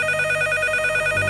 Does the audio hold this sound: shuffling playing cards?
no